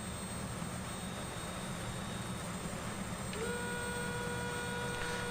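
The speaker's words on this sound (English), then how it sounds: "the flap motor on this plane sounds like an alarm horn" Inside a Cessna 206 turbine cockpit, a flap motor starts with a steady whining drone that rises slightly, heard over the constant roar of the engine and cabin noise.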